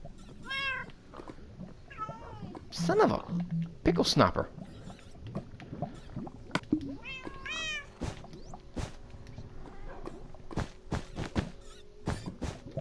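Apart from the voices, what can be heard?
cats meowing in Minecraft video game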